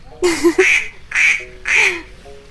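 A voice imitates a duck, giving three nasal quacks in a row, close and fairly loud, with short pauses between them.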